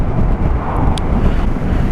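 Loud, steady wind buffeting a microphone while riding a Yamaha MT-07 motorcycle fitted with a Puig Sports windscreen, a continuous low roaring rumble with no pauses and no voices.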